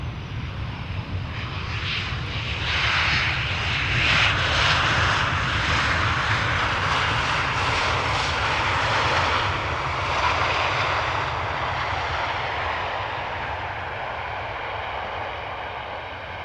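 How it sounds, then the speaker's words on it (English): A KLM Boeing 737-800 landing at Amsterdam Schiphol Airport makes a continuous broadband jet roar with a rushing hiss that swells and then slowly fades, heard from a distance outdoors with no speech. "another KLM 737 is landing, arriving from London Heathrow, 737-800"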